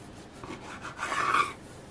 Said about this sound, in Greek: Θα ξανακόψω στη μέση με ένα πριονωτό μαχαίρι.